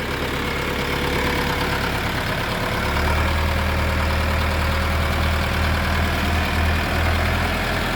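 A Dongfeng 404 G2 tractor's diesel engine with compressor idles steadily nearby, a constant low rumble that deepens slightly partway through, with no voices.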